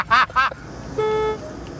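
A car horn sounds in a single steady toot of about a third of a second, triggered by braking in a modified car during a driving challenge, following two short bursts of a voice.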